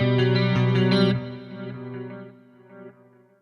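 Chorused electric guitar chords through an Axe-Fx panning delay summed to mono ring out and decay, with the delay repeats audibly dropping in and out and leaving an uneven tail.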